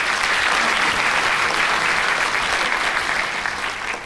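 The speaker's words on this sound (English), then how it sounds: "another round of applause for Minister Kumuyi" Dense, steady applause from a conference audience honoring a government minister, loud and unbroken for about four seconds before easing slightly at the end.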